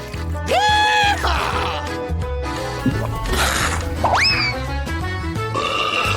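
An exaggerated stomach rumble after drinking cola comes as a run of groaning, rising and bending tones and gurgles, loud and close, in a comic style.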